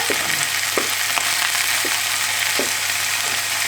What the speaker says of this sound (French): une fois que les saucisses elles sont dorées, on doit ajouter les carottes, le fenouil et les épices